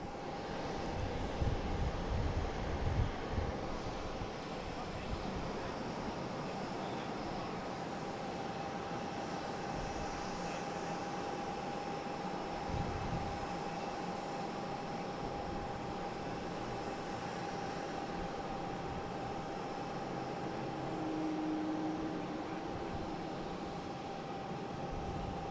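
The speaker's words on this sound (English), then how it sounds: "next to arrive, we have Iberia coming in from Madrid" An Iberia Airbus A321neo arriving from Madrid makes a distant, steady jet rumble with a faint whine, a low thump or two early on, and an even wash of noise with no talking.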